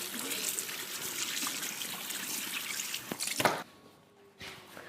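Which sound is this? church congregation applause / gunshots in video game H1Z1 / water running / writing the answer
water running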